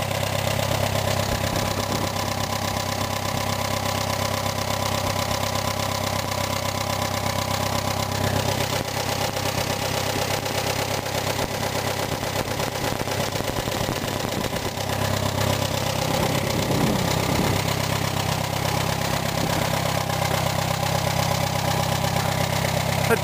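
A 1952 Case tractor engine idles steadily just after a cold start, a continuous low rumble with a faint knock, close and loud throughout with no talking.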